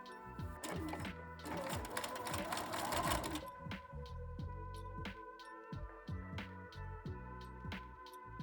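A sewing machine stitches bias binding onto a garment in quick mechanical bursts, running fast at first, then settling into shorter stop-start runs of rattling needle strokes, close and clear.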